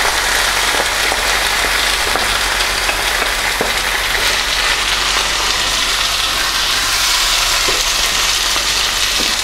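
Balti curry paste and tomatoes fry in a hot pan for a Kashmiri chicken curry, a dense, steady sizzle like heavy rain with occasional sharp pops and spatters, loud and unbroken, no voices.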